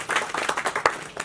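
An audience at a Hindi film trailer launch breaks into a short spell of clapping, a quick uneven patter of hands, fairly close and loud.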